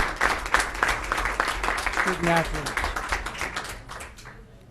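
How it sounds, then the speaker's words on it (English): An audience at a school district board of education meeting applauds for student athletes, a dense, moderately loud burst of clapping that tapers off near the end while someone speaks briefly over it. "Round of applause for all of our"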